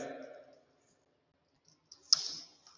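A few faint keyboard clicks sound while Python code is typed, following a short stretch of speech and then near silence.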